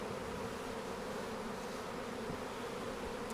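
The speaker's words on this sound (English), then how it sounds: "This nuke is going to be packed with bees." Honeybees packed into a nucleus hive make a steady, dense hum that holds evenly throughout, close and moderately loud, with no voices.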